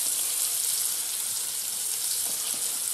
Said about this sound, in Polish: Jak podsmaży się kiełbaska, niech się smaży się.